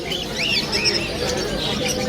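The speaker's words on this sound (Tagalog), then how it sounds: "Ang dami namang ibon ni Mr." Dense chorus of many caged birds chirping and cooing at a bird market, including yellow-faced finches, a loud continuous chatter of overlapping tweets close by, with faint voices mixed in.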